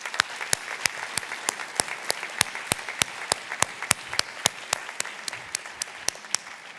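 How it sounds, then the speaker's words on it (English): Sparse, evenly paced claps at a dual enrollment graduation recognition ceremony, sharp individual hand claps sounding one after another in a steady rhythm over a quiet background. "Please give them a huge round of applause."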